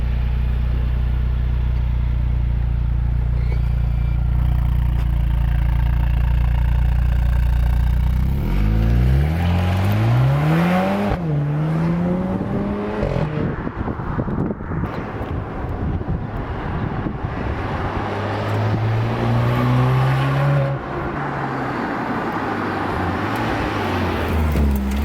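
A 2023 Mercedes-AMG C43 sedan idles with a low drone, then launches into loud, rising acceleration with several upshifts heard as repeated climbing engine sweeps, close and continuous with wind and road noise.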